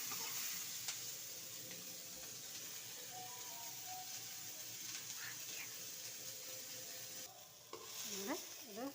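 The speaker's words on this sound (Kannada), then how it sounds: "ಇದು ಫ್ರೈ ಮಾಡಬೇಕು. ಆಯಿತಾ? ಈರುಳ್ಳಿ ಸ್ವಲ್ಪ ಬೇಯಬೇಕು." Onions fry quietly in a pan with a faint steady sizzle and occasional soft stirring clinks, while a distant voice and brief other sounds drift in the background.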